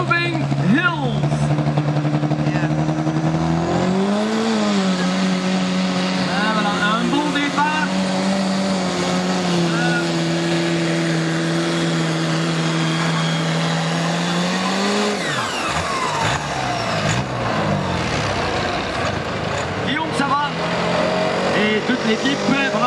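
A compact diesel tractor roars loudly and steadily in a full-class pulling event at Silly, Belgium, its engine note rising and falling near the start, then fading late on as an announcer talks over it.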